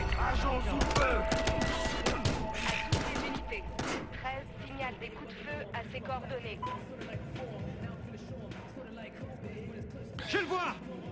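Battlefield Hardline gunfire crackles in rapid bursts and single shots, mixed with game effects and voices talking underneath.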